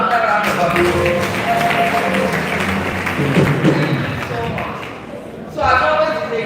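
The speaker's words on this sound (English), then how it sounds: "So please give him another round of applause." A lecture audience applauds the speaker at a distinguished public lecture, a broad wash of clapping that continues while someone talks over it through the whole stretch.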